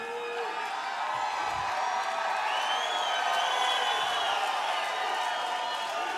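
A Bellator MMA arena crowd keeps up a continuous wash of cheering and whooping at moderate loudness, with scattered shouts rising and falling across the noise.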